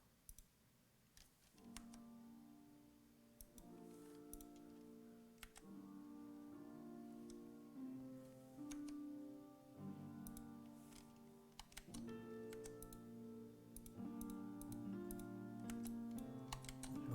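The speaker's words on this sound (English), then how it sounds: "This keyboard right here I'm actually using is like the, and I was saying this earlier, is like the pinnacle of that question" Crisp clicking keystrokes on a computer keyboard, irregular taps scattered over a steady backdrop of soft music, fairly close but quiet.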